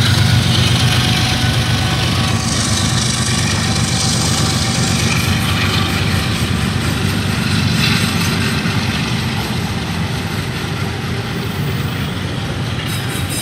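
An eastbound CSX freight train led by two locomotives with auto racks up front rumbles past at close range, a loud, continuous low engine drone and rolling rail noise that holds steady throughout.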